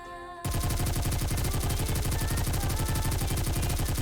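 Rapid automatic gunfire from a character's shooting animation in the game Goddess of Victory: Nikke, a dense, steady burst of loud shots starting after a brief quiet moment and continuing without pause.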